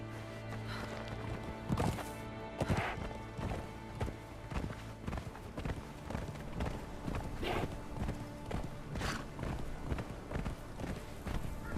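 Horse hooves clip-clopping in the video game Conan Exiles, a steady run of distinct hoof strikes at a quick rhythm, fairly near but quiet, set against a constant humming game backdrop.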